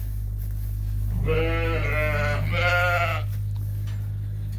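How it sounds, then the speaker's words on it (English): A ewe that has just had a newborn lamb bleats twice in a barn during lambing, two loud wavering calls close by over a steady low hum. "a ewe here that has a lamb"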